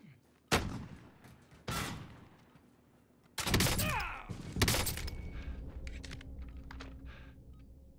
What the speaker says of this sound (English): I just sniped a guy out of the air with a crossbow.